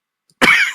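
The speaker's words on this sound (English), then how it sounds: "That makes me cough worse." A single sharp cough bursts out close and loud after a brief silence, trailing off over under half a second, during an evening tabletop Starfinder game session.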